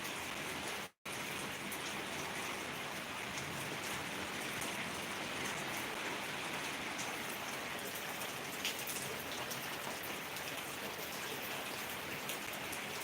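Steady rain falls in a dense, even hiss with light patter on surfaces, continuous and moderately close after a very brief dropout at the start, no talking.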